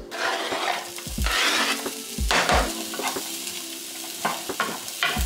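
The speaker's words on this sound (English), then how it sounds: "I'm gonna saute my vegetables first." Vegetables sauté in a pan on a stove with a loud sizzle that swells as a utensil stirs and scrapes, and several low knocks of the pan and spoon come through.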